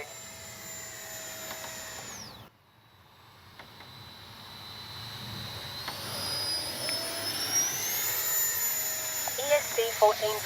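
An E-flite 64mm Viper electric ducted-fan RC jet flies with its flaps up, its high whine cutting out briefly, then swelling back and rising in pitch as it passes, while a voice talks over it.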